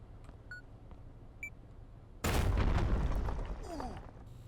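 Explosion in the horror video game Late Night Duty, a security-guard game: a sudden loud boom that erupts after quiet ambience and rumbles on for a couple of seconds, with faint beeps before it.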